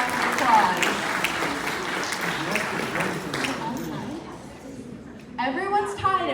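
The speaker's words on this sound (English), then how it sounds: "Give yourself a round of applause." Audience applause at a couples' quiz game show event, moderate and continuous under a speaking voice, fading before talk resumes.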